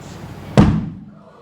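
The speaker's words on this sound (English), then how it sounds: "I filled these balloons with hydrogen gas, and then inside of them, go ahead and put it up there, inside of them I filled it with an inorganic salt" A hydrogen-filled balloon laced with strontium chloride ignites in one sharp, loud whoomp that quickly dies into a fading rumble.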